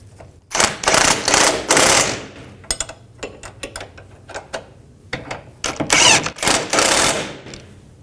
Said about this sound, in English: Now, with the 18mm wrench up top, tighten these bolts down.